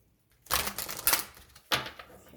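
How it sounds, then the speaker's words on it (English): Tarot cards being shuffled by hand, riffling in two bursts with a brief pause between them, close and fairly crisp, with no voices. "Okay, one more shuffle."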